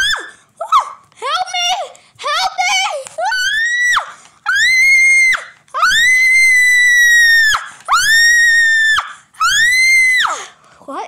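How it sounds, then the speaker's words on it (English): High, drawn-out screams rise and hold in a run of repeated bursts, loud and close, some shaped like whinnies, heard alone without talk, in a comedic lunch skit where a springbok or blesbok antelope is being carried off. "Is that screaming?"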